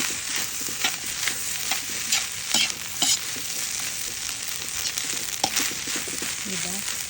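Garlic fried rice with malunggay leaves and egg sizzles steadily in a pan while a spatula stirs and scrapes in repeated strokes; a voice talks over the cooking now and then.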